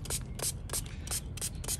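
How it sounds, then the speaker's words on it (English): A spray bottle mists a hydrogen peroxide and water mix onto dragon fruit plants, with six quick, evenly spaced squirts close to the microphone. "I'm gonna go ahead and just give it a good spray."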